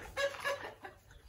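Chickens at a small petting zoo on a Crimean hotel's grounds give a couple of short clucks, close and fairly loud, followed by quieter fowl calls with no talking.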